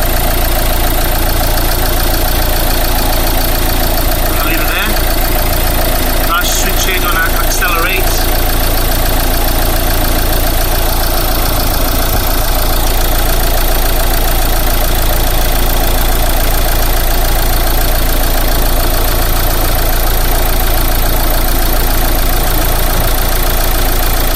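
A Renault Megane MK3 engine runs at a steady idle during glow plug testing, a constant close mechanical drone with faint voices in the background.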